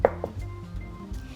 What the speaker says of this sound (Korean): 안에 심지는 항상 꼭 제거를 해주신 다음에 얇게 채를 썰어주세요